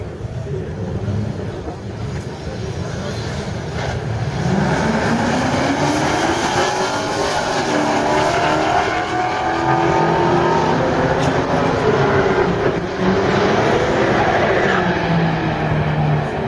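A 2009 Honda Civic and a 1970 GTO drag race down a strip, their loud engines rising through the gears with rising and falling whine and roar as they pass, with a faint announcer voice in the background.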